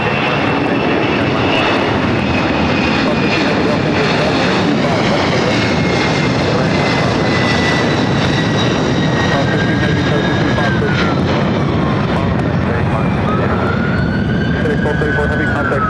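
A FedEx Boeing 767 jet rolls for takeoff on runway 25 Left at LAX, its engines a loud, continuous roar with rising whine tones, sustained and close for the whole stretch.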